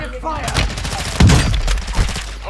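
Bursts of M4 rifle fire in Call of Duty: Warzone 2.0, rapid rattling shots and heavy impacts in a gameplay firefight, loud and close, with players talking excitedly over the gunfire.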